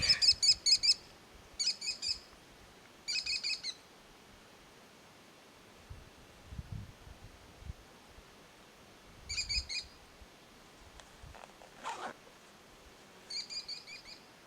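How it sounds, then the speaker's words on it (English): A small hawk perched in a wilderness tree gives bursts of rapid, high, sharp calls, repeated at intervals over faint outdoor background noise. "Tiny little kitty hawk landed up there on that tree."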